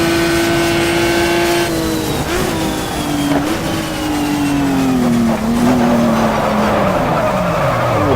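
A race car in the GTR2 racing game downshifts under braking, its loud engine note stepping down through the gears while the tyres squeal and skid through a corner.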